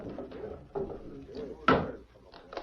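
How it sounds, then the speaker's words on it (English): A wooden door bumps and knocks as it is opened, with a sharper thud near the end, heard close amid quiet movement. "Open the door, Hank."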